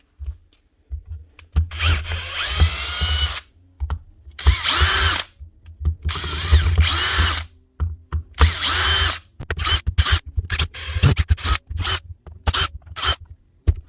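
A Bosch power tool, drill-like, whines in repeated bursts while opening another Bosch tool during repair, starting and stopping many times with short pauses, close and loud, with no talking.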